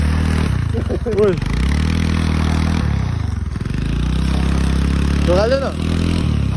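A motorcycle engine revs in strained bursts on a steep mountain trail in Nepal at high altitude, loud and close, with people talking over it.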